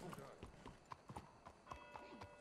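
Horse hooves clip-clop in the video game Ivy Colt during a store robbery mission, a quick irregular series of light knocks over faint game ambience, moderately distant and soft.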